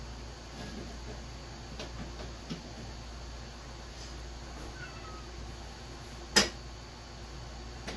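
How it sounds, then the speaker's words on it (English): A pet cat meows faintly indoors during closet assembly with an Ikea Boaxel system, the calls soft and intermittent over a steady room hum, with one sharp click near the end. "Please excuse my cat meowing."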